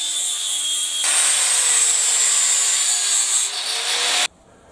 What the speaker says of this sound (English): we'll let the lathe do the rest